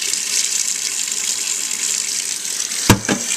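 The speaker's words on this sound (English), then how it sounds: "fill it up with some ice cold water" Tap water runs steadily into a pot to rinse navy beans for soup, a constant close hiss of flowing water lasting throughout, with a brief clunk near the end.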